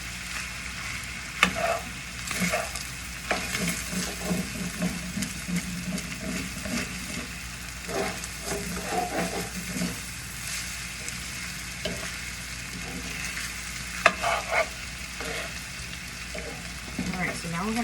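A spoon stirring flour into sizzling meat in a cooking pot for Natchitoches meat pie filling, steady frying hiss with intermittent scraping strokes, continuous and close.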